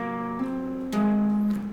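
Electric guitar tapping and hammer-ons from a riff, two sustained clean-toned notes ringing one after another, moderately quiet and alone.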